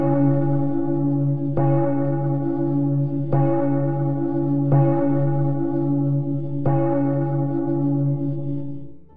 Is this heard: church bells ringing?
yes